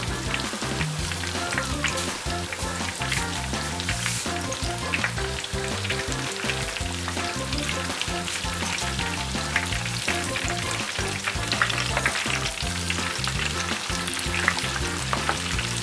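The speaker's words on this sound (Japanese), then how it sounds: "エビに火を通しすぎないよう高温で短い時間で揚げましょう" Breaded shrimp crackle and sizzle steadily in hot oil at high temperature, a dense, continuous bubbling hiss heard up close with no voices.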